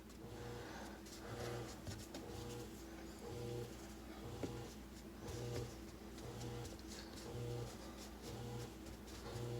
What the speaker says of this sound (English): You can hear the wash machine going.